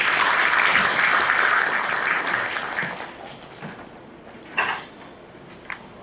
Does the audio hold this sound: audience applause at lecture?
yes